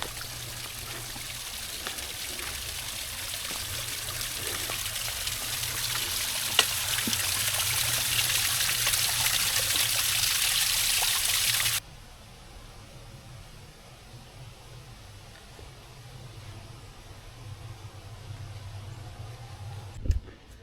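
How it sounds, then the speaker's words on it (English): Steady rushing trickle of a small waterfall on a forest hiking trail, loud and close for the first half, then quieter and more distant as the splashing continues. "Up ahead we got a small waterfall. Very small, but hey, it still counts."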